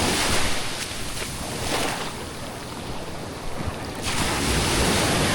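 Strong ocean waves crash and wash along a shore in steady, roaring surf, with gusty wind buffeting the microphone throughout.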